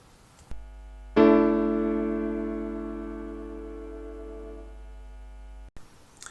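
One suspended fourth chord in a new tuning system is struck and held, its layered tones fading gradually over about four seconds, with faint background noise before and after.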